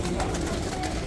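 Pigeons coo close by at a busy Wednesday pigeon market in Baghdad, their soft, throaty calls rising over a dense crowd murmur with a little talk in the background.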